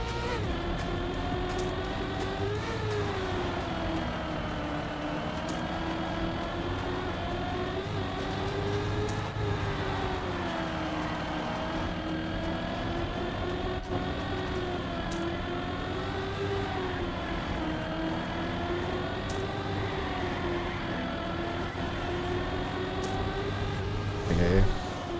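Steady engine drone from other cars in a racing video game runs throughout, rising and falling in pitch with occasional brief clicks, continuous and fairly even in loudness.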